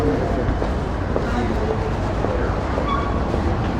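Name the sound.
tram passing on a Melbourne street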